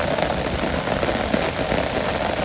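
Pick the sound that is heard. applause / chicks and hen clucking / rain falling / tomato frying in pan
rain falling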